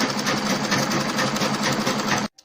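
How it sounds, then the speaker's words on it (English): Sewing machine running a straight seam along the side lining of an Ankara dashiki, a steady continuous whir at close range that cuts off abruptly near the end. "we are going to sew both sides straight first"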